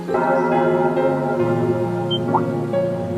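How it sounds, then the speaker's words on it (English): The old schoolhouse bell rings in the video game Trails of Cold Steel II, a sustained resonant toll with lingering overtones over soft background music. "Is that the old schoolhouse's bell?"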